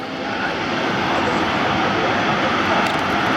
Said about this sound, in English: The 9 headlights come on, you now hear the engines wind up.